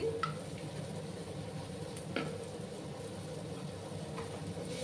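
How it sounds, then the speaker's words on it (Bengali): Spices with coriander powder being stirred and sautéed in a pan for Bengali chickpea dal, a low quiet sizzle with a few sharp scrapes of the spoon against the pan. "ভালো করে আমি মশলার সাথে কষিয়ে নেব।"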